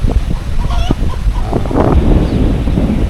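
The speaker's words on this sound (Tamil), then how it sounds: "ஏன்னா காற்று பயங்கரமாக அடிக்குது" Strong storm wind buffets the microphone outdoors as a steady, loud roaring rumble with gusty low-frequency pressure and no clear pauses.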